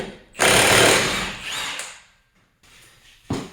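Impact wrench hammering loose the rear axle nut on a Subaru STi, one loud rattling burst of about a second and a half that tapers off, followed by a quieter pause and a short final hit.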